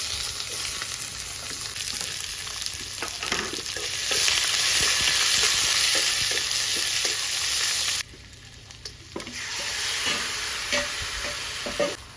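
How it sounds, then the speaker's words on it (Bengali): Bay leaves sizzle and spit in hot oil at the start of a Bengali mutton curry, a steady close frying hiss with scattered crackles, briefly quieter midway before the sizzle returns. "দিয়ে দিলাম তেজপাতা দিচ্ছি"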